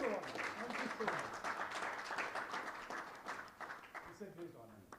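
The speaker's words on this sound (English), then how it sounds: "Requesting everybody to kindly give a big round of applause" Attendees at a sports federation's annual general meeting in a hotel give a faint, sustained round of applause, heard distantly beneath an announcer's voice.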